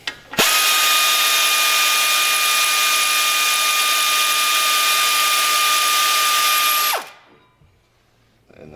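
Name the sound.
air ratchet with 18mm socket loosening brake caliper bolt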